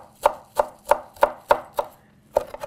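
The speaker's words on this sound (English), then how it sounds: "I want to just chop up the parsley" A knife chops fresh parsley on a cutting board in about eight sharp, evenly spaced thuds, close and distinct, with a quicker double tap at the end and no talking.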